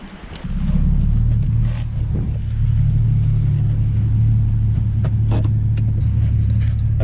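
A Mercedes C63s AMG fitted with catless downpipes starts up close by, then settles into a loud, deep, steady rumble that surges slightly before holding a constant idle, with faint clicks and knocks around it.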